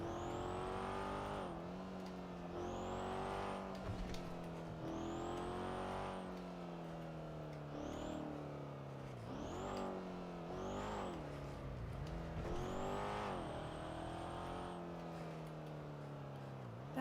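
Engine drone and repeated rising rev sweeps of a car being driven in GTA roleplay, steady and continuous throughout with faint talk in the background.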